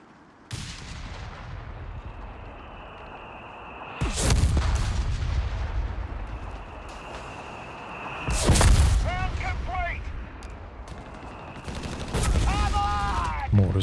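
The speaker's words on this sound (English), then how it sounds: "Mortars are active." Mortar artillery fire in the video game Company of Heroes 3 during a 3v3 match: three heavy booming bursts at roughly four-second intervals, each followed by a rumbling decay, with some game voice chatter and a steady battlefield bed between them.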